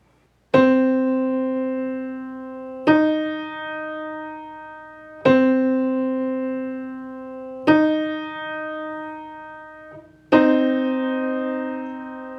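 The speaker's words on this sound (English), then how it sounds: "A minor third, which sounds the same as an augmented second." Two plucked tones sound in alternation, a lower note followed by a slightly higher one a minor third above, repeated five times with clear attacks and gradual decays.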